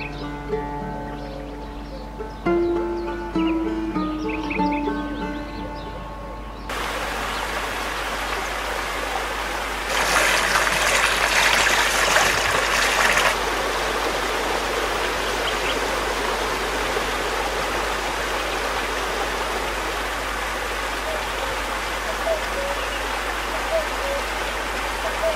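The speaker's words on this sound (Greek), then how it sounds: "Το τραγούδι του καταράκτη" A waterfall near Xenophontos Monastery pours in a steady, full rush of falling water over stone, with a louder surge partway through and music fading out at the start.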